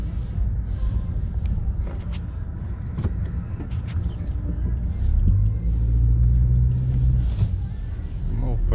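A Chery Tiggo 2 car stuck in snow rumbles steadily, then its engine revs harder midway as the wheels spin. Someone talks over the engine throughout.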